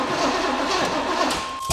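An abandoned barn-find Chevy Impala, sitting unused for about ten years, has its engine cranked by the starter in one continuous, loud churning run before it cuts off abruptly.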